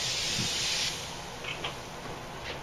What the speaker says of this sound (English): we're just going to spray a little oil on there.